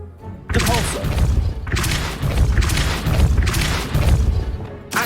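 Depulso spell being cast in Hogwarts Legacy, heard as loud booming thumps and crashing impacts in several repeated waves, close and dense with game effects.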